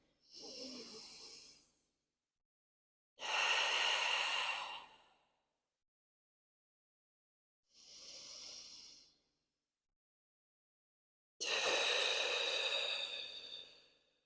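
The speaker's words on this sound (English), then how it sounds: "2 big breaths into those back ribs." Deep, airy breaths during a mat Pilates exercise, four long hissing inhales and exhales in an even rhythm separated by silence, close and fairly loud, with no talking.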